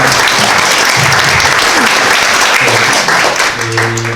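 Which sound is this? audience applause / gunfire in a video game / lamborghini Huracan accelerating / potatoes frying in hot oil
audience applause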